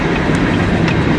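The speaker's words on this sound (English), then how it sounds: "we got our first glimpse of a train here in Sacramento" A manifest freight train rolls past near Roseville at the west end of Sacramento, a dense, steady rumble with faint clattering and no voices.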